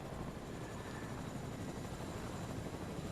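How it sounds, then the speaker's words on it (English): Helicopter in the Fortnite video game, a steady broadband rotor and engine drone holding at even loudness throughout with no talk over it. "Make sure the helicopter doesn't hit the builds."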